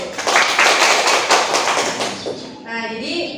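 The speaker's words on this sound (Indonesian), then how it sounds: "Beri tepuk tangan dulu dong buat Nurul." A classroom claps for a student, a short burst of scattered applause from many hands over a couple of seconds, mixed with voices and ending in chatter.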